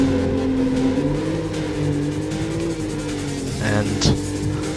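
Ferrari engine in the racing game Need for Speed: Road Challenge on PSX, a steady droning rev that climbs and shifts pitch, with a brief squealing skid near the end, while a person talks over it.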